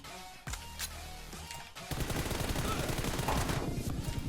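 Automatic gunfire in PUBG Mobile, a quiet shot or two, then a loud, rapid sustained burst that fills the rest of the clip.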